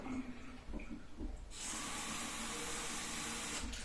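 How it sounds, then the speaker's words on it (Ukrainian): Starchy water is poured off a cooking pot into a sink. After a quiet stretch with faint kitchen sounds, a loud, steady splashing rush of water starts partway through and continues to the end. "я зараз зілью ще воду з крохмалем і ще раз налью."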